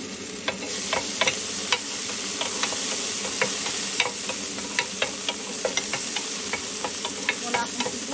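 Garlic sizzles in a hot pan with a constant bright crackle, broken by repeated light taps and scrapes of a utensil stirring.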